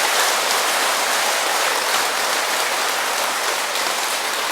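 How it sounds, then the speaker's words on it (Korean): A temple audience at a Buddhist sermon bursts into steady, dense applause, a close, loud, even roar of many clapping hands sustained throughout with no voices. "박수로 한번 표현해 보세요"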